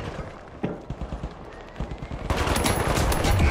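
Gunfire in the video game The Finals: bursts of rapid shots and scattered single reports at moderate distance, growing denser and louder toward the end, with no talking.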